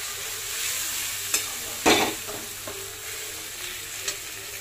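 Crab sizzles and fries in a pan while being stirred, a steady close crackle broken by a few sharp scrapes and knocks of the spoon, with no talking.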